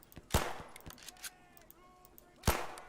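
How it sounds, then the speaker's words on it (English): Lee Enfield rifle shots in the Civil War-era multiplayer game Battle Cry of Freedom: two sharp, loud cracks about two seconds apart, with a few fainter distant reports and light clicks between them. "So Lee Enfield, I ought to be able to get more shots off without having to reload"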